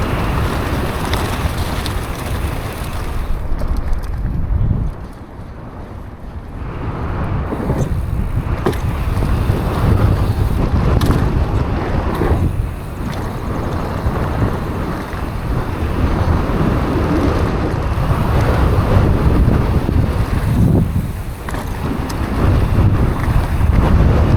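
Strong, gusty wind buffets the microphone at a mountain bike park, a loud continuous low roar that surges and dips throughout with no voices.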